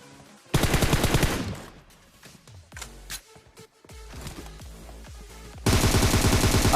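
Automatic gunfire rings out in the mobile battle royale game PUBG Mobile, with two loud, rapid bursts at the start and end and scattered single shots and softer in-game sounds between them.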